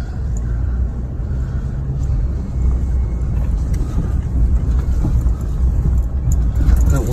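A truck pulls out of a cramped campsite with a steady, loud engine rumble and road noise that holds throughout without a break.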